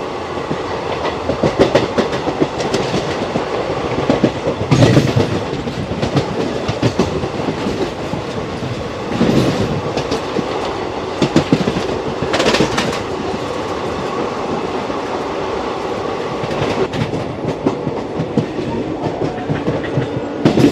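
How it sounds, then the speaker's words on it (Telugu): Tirupati-Kakinada Town Express 17249 runs at speed on rails near Annavaram, with a continuous rolling rumble and rhythmic clickety-clack bursts as wheels cross rail joints, heard from on board with no talk. "మన ట్రైన్ స్పీడ్ అయితే ఇంత మెయింటైన్ చేస్తున్నారు."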